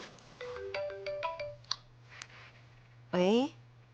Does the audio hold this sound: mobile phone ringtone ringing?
yes